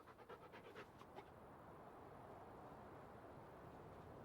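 A small farm dog in Farming Simulator 19 pants in quick rhythmic breaths close by, faint and soft, the panting fading into a steady low background hum after about a second.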